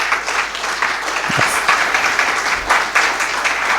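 Audience applause at a diplomatic New Year address, a dense, steady wash of clapping from a large crowd that holds at an even level throughout, with no voices rising above it.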